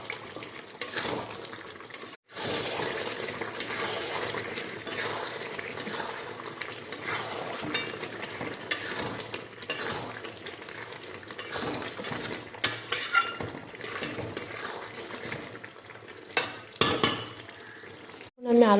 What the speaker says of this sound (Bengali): আগে সব রকম মশলা দিয়ে কষাচ্ছি